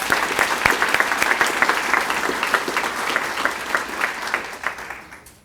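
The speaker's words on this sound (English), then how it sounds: "Let's give him a huge round of applause." Audience applause at a college building topping-out ceremony, a moderate crowd clapping steadily for several seconds and gradually tapering off toward the end.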